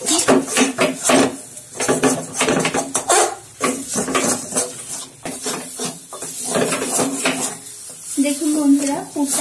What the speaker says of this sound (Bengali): এবার সব উপকরণগুলো খুব ভালোভাবে ভেজে নিচ্ছি।